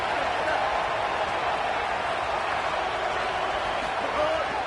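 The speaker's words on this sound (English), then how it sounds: "The Red Raider crowd rising to the occasion to help its defense on 3rd down." A Texas Tech Red Raider football stadium crowd roars on a third down, a dense, sustained wall of cheering that holds steady and loud throughout. No distinct voice stands out.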